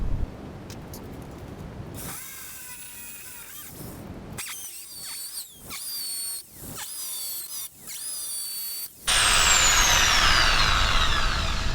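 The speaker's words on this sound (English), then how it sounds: "And time for more drilling." A power drill whines in several short bursts separated by brief pauses, drilling holes in a model railway layout, then a longer, louder final run; close and sharp, with no talking.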